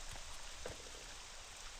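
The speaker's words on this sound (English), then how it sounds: "It's raining. I'm going to turn down the effect sound, just in case. I like the sound of rain" Steady rain falls in the video game Morrowind, a soft, even hiss of drops, faint and continuous with no voices.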